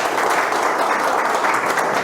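A seminar audience at a business talk breaks into strong, sustained applause, a dense, even wash of many hands clapping together.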